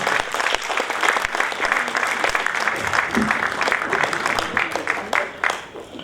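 Audience applause at a Hindi kavi sammelan (poetry recital), a dense, steady wash of many hands clapping for about six seconds, fairly loud, easing slightly toward the end.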